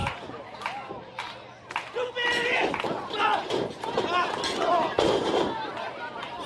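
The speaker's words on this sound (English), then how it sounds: "Crowd getting behind Sabotage." Wrestling fans rally behind Sabotage with swelling cheers and shouts that rise after a quieter start, mixed with sharp ring impacts, while commentators keep talking throughout.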